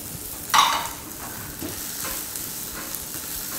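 Orzo with a little onion and carrot being stirred in a pan, a brief clatter of stirring followed by a low, steady sizzle that carries on quietly alone.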